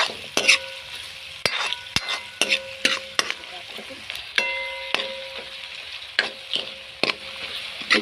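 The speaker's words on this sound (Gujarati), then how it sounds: "હવે સરસ મજાનું આને શેકવાનું છે. મિનિમમ ધીમા તાપે 5 મિનિટ સુધી શેકવાનું છે." Onion and capsicum roasting on a low flame in a pan for a dhaba-style paneer curry, with soft sizzling under repeated clinks and scrapes of a spoon against the pan, close and moderately loud.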